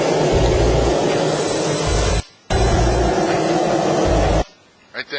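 A Rolls-Royce C250 turbine jet engine mounted in the back of a car roars loud and close as a constant broadband whine, cutting out briefly, returning, then dropping away.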